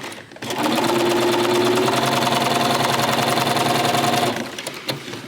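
A sewing machine fitted with a walking foot stitches quilt binding in a fast, even mechanical chatter with a rising motor whine, starting and stopping abruptly, close and loud.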